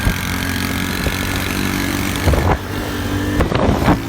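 Motorcycles ride over a badly broken road on the way to a volleyball match, a steady engine drone with a few sharp jolts and rattles from bumps near the end.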